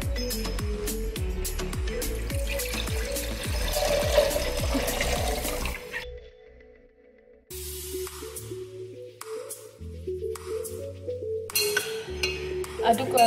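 Distilled water is poured out to dissolve acetic acid in a lab, a close, steady splashing stream over the first half, then a pause, then softer sounds with background music.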